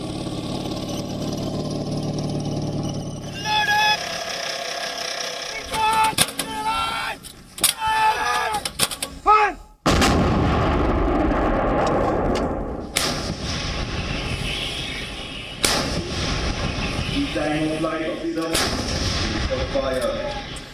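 Four heavy, booming blasts from K-9 howitzer artillery with the Indian Army ring out at irregular intervals, each sharp and loud over a rumbling background, with faint voices in between.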